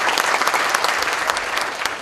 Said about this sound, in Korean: 다시 한번 우리 김정혁 교수님께 큰 박수 부탁드리겠습니다